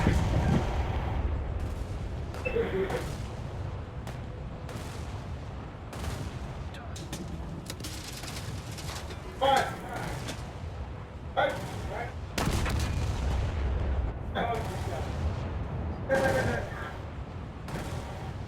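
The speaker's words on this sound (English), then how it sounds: "That's a pretty impressive broadside," Naval broadside artillery in War Thunder, a continuous low rumble of heavy guns with repeated booming salvos and distant impacts layered over steady engine noise, while a voice talks over the action.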